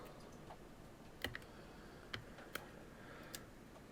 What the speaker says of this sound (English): So we're just going to snip all the cable ties that hold it into place.